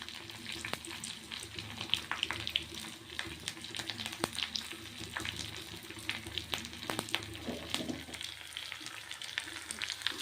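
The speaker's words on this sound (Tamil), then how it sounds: "கருவேப்பிலை தாளித்து அவ்வளோதான்." Curry leaves and dried red chillies tempering in hot oil for cabbage kootu give a steady, close crackling sizzle with scattered sharp pops throughout, and no voices.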